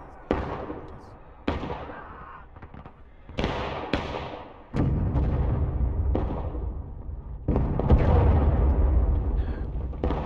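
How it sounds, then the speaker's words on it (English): Two cannon shots in War of Rights, a Civil War battle game, boom out as loud, close blasts about halfway through and again near the end, each followed by sustained rumble, with smaller crackling reports earlier. "That's both of our cannons."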